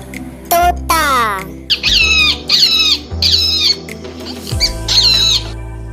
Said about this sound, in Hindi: Now this is a parrot.